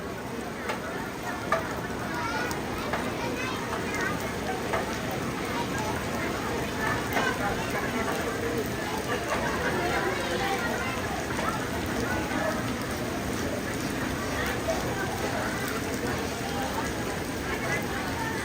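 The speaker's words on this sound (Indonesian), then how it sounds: "Hujan melanda." Steady rain pours down on a village, a dense continuous hiss of drops on surfaces that holds at an even level throughout, with faint background voices mixed beneath the downpour.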